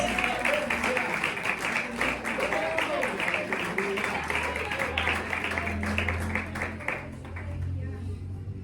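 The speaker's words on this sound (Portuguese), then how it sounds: "Quem crê, glorifica com as fortes palmas para Jesus." Church congregation clapping loudly, a rapid, rhythmic run of many hands with voices mixed in, fading somewhat toward the end as low-pitched sound rises beneath.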